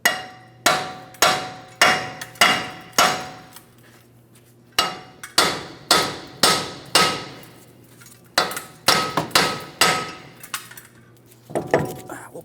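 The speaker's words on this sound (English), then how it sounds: "So we're just going to carefully tap on this and breaking it free." A hammer taps a front wheel bearing free from the steering knuckle on a 2015-2025 Ford Transit, giving sharp metallic strikes in quick bursts, about a dozen loud close blows with short pauses between runs.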